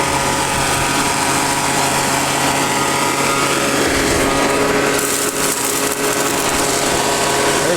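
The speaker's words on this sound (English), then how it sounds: "And here's my dry washer setup." A gas-engine gold prospecting dry washer runs at a desert digging site near Randsburg, California, a steady loud high-revving motor drone with rattling machinery, continuous and close throughout.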